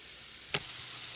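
Chopped sausage meat fries in a pan for country sausage biscuits, giving a steady close sizzle throughout with one brief louder crackle or scrape partway through.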